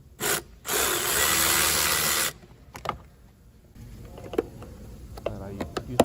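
Hand tool loosening the airbox clamps on a Jeep Grand Cherokee, heard as one close, sustained ratcheting burst followed by scattered faint clicks and light handling noises.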